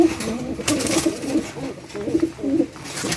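Pigeons coo repeatedly in a pigeon loft, a steady run of soft, low, throaty calls close by, with a few brief noises in the background.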